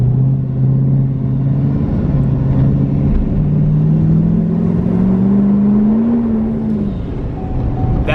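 A compound-turbo 2020 L5P Duramax diesel truck pulling at about quarter throttle, its deep engine drone rising steadily in pitch, then easing off, close and loud with no talk.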